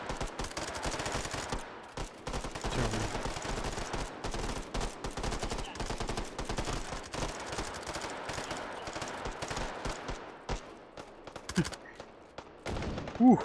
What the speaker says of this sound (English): Very loud. Lots of gunshots going on.